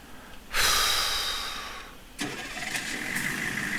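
A vehicle engine cranks and fires up in Farming Simulator 19, a sudden loud burst that settles, then catches again into a steady, rough running idle.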